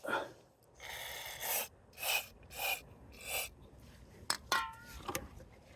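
Several short hissing sprays of cleaner directed into the mass airflow sensor housing of a 1994 Ford Escort, each burst a second or so long with brief gaps, close to the microphone, followed by a few faint clicks.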